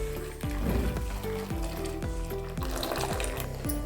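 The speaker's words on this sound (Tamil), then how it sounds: "இது கொதிக்குது, நல்லா கொதிக்கட்டும்." Thick jaggery syrup bubbles and sizzles steadily in a pan, with soft pops and clinks of a utensil against the metal.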